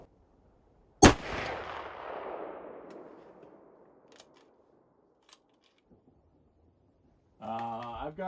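A single loud gunshot from a .458 rifle loaded with a 300-grain Barnes TSX bullet, fired outdoors, with a sharp crack and a long rolling echo that fades over several seconds before someone speaks.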